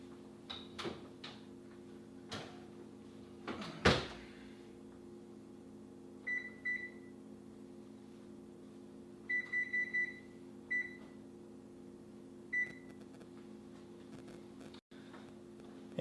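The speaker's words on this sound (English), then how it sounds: "And now we have to set the oven." An oven is set in a home kitchen for baking bread: a few soft clunks of doors or cupboards come first, then short, high electronic control beeps sound in small clusters, near and fairly quiet.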